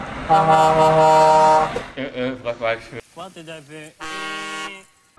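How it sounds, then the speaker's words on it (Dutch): Loud twin cab-mounted truck air horns honk several times in a row, long harmonic blasts followed by shorter wavering toots, close by. "twee grote mooie luchthorens op de cabine eh, te zetten. Voor extra geluid, toeter."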